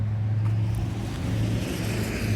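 A Toyota Cressida idles with a steady low engine rumble and drone inside a shop as it is moved, close and fairly loud, with no talking.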